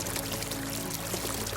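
A cold river in western Canada flows toward the Pacific, a dense, steady rushing of water, close and continuous with no breaks.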